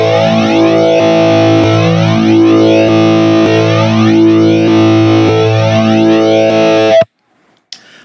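Synthesizer tone with LFO modulation reset at 90 degrees, a distorted, chorused sustained chord with steady rippling modulation, loud and alone for about seven seconds before cutting off abruptly, followed by a brief faint blip.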